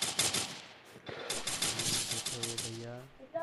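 Rapid bursts of automatic gunfire from the mobile battle-royale game Free Fire crackle in dense, overlapping volleys, with a voice talking over the shots throughout.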